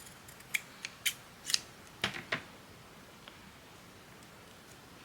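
Scissors snip through paper while crafting mini calendars: a handful of quick, crisp cuts in two small bursts, close and fairly quiet, then silence.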